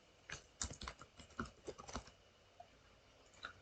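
Keys tapped on a computer keyboard to enter a password, a quick burst of about a dozen close, soft clicks in the first two seconds, then a couple of isolated taps in a quiet room.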